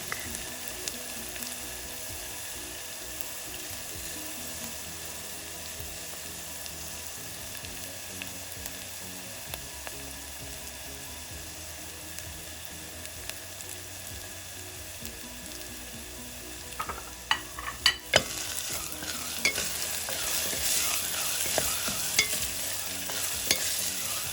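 Canned black beans cooking down in a pan before garlic goes in, a continuous moderate sizzle that grows louder and busier with stirring and scraping clatter toward the end, no talk.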